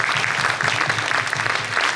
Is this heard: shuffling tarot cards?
no